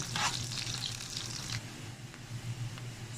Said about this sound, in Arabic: عايزين نحمره كده زي تقليد الكشري